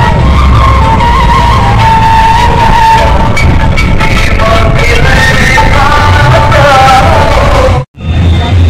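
Heavy road traffic in Jamshedpur during a Guru Gobind Singh Jayanti gathering makes a loud, close jumble of engines, squealing tires and horn-like tones, with a brief dropout near the end.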